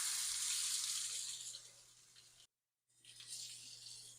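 Hot water pours from a kitchen tap for cake batter, a steady hissing rush that tapers, cuts off briefly, then starts again.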